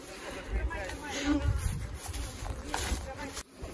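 Honey bees buzz around a beehive near a hanging queen cage at an apiary, a steady close hum in the background with a person talking over it.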